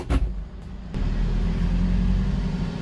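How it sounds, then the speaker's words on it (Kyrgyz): A car drives steadily along a road in South Korea during onion season, its engine and tyre noise a continuous close rumble after a brief louder rush at the start. "Мына машина аркасынан айдайбыз азыр."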